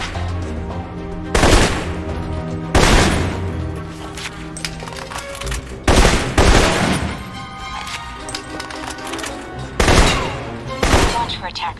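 Assault rifle fire in the Alpha Protocol game: loud bursts of automatic shots, heard as five or six separate volleys spaced a couple of seconds apart, each with a sharp crack and a short ringing tail over a steady game backdrop.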